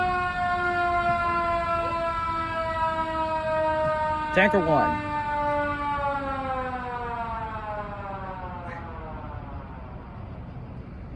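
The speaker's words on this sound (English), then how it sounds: "I think they were just testing the siren." A fire tanker's siren wails during a test, a steady harmonic-rich tone that slowly falls in pitch over several seconds, loud and close, with a brief burst of radio chatter partway through.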